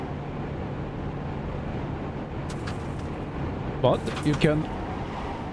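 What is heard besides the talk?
wind and tire noise in VW Jetta TDI, iRacing video game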